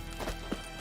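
Geralt's horse Roach galloping in Witcher 3, brief hoof clip-clops under a steady wash of game ambience, moderately close, lasting under a second.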